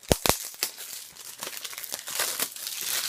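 Plastic wrap and packaging crinkle and tear as a Mission: Impossible – Fallout special edition box set is unboxed, with close, busy rustling running throughout.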